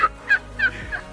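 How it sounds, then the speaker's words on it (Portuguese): A black turkey flying about and gobbling, four short loud calls in quick succession over a faint background hum, no talking. "O peru tá voando aqui."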